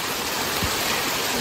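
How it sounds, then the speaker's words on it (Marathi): A short burst of a flowing stream on the monsoon Bhimashankar trek, a close, even rush of running water with a faint low thump in the middle. "वाहता झरा आहे"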